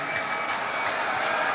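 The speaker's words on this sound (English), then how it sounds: "Do I hear your applause?" A forum audience at a stakeholder gathering applauds in a continuous wash of hand claps, even and fairly distant, with no clear voices over it.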